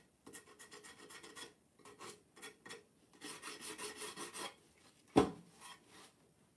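A vintage wooden coat hanger is rubbed to distress it. It gives off bursts of close, quiet rasping strokes in irregular groups, then a single sharp knock near the end.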